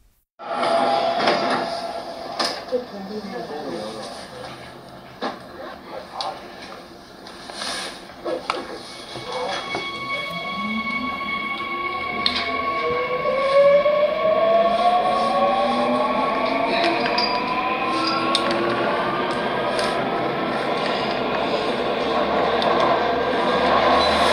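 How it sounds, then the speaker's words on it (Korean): A subway train runs loud and close, a rumbling roar punctuated by clanks and rising, squealing pitch sweeps as it accelerates, building steadily over about twenty-four seconds with no talk. "무슨 지하철 아닌가요?"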